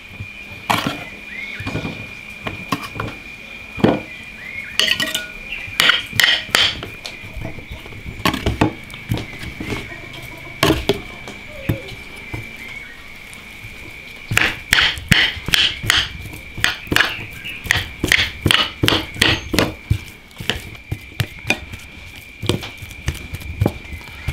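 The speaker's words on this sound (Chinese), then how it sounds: "土豆捞出来，把它戳碎" Boiled potatoes are mashed in an iron pot, with repeated sharp knocking thuds of a tool striking the pot in irregular bursts, some quick runs of blows, close and loud, with a faint steady tone underneath.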